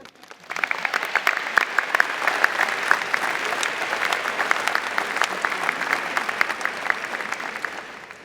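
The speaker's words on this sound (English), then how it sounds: "Applause is in order." Audience at a Class of 2019 high school commencement ceremony breaks into sustained applause, steady dense clapping from a large crowd that holds for about eight seconds with no voices over it.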